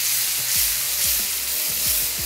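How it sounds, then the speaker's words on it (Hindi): Tomato puree hits a hot pan for chana dal gosht and sizzles loudly and steadily, with a few low scraping strokes from stirring scattered through the frying hiss. "यहाँ पर हमने ऐड कर दी टोमेटो प्यूरी"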